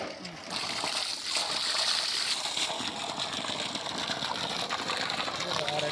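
A 2 HP solar BLDC borewell pump drawing from about 400 feet discharges water through a 1.25-inch delivery pipe, a steady close splashing gush that runs continuously while people talk nearby.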